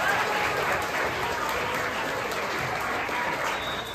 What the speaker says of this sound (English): Big round of applause for our corporate partners.